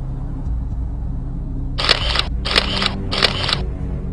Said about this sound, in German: schießt mit seiner 35mm Kamera zwei Fotos der vorbeirasenden Scheibe